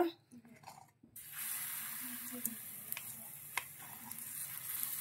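Pancake batter poured onto hot oil in a pan, setting off a sudden, loud, broad sizzle that holds steadily with small pops after a brief quiet start with a little talk.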